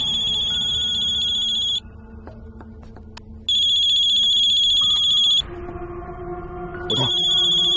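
A mobile phone ringing in a tense horror scene, its electronic ringtone sounding in loud bursts broken by short gaps. Quiet, low background sound fills the pauses between rings.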